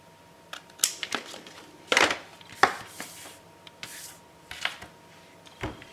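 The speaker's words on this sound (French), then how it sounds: "je fais ma petite coupe en biseau de chaque côté" A blade makes a bevel cut along a paper page for a baby girl scrapbook album, giving a handful of separate sharp scraping and chopping strokes with quiet pauses between them, close and clear.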